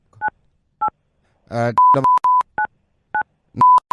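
A telephone number is keyed in on a phone: a series of short, distinct DTMF beeps at uneven intervals, with brief bursts of other noise between some of the tones.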